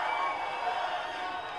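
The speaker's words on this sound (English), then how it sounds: "The crowd chanting, Benny," A kickboxing crowd at GLORY 38 in Chicago chants a fighter's name in a steady, rhythmic roar filling the arena, continuous and moderately loud for a moment.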